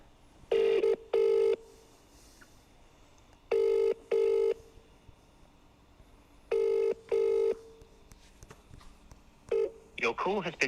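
A phone call rings out in three pairs of loud, evenly spaced double ring tones separated by silences, followed at the end by the start of a recorded voice message.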